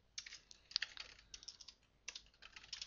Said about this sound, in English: I'm just going to type in the standard things that we learned last time